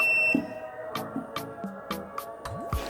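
A multimeter on continuity test gives a series of short, faint beeps while probing the gate, drain and source pins of a MOSFET still mounted on a grid tie inverter board, with clicking between beeps.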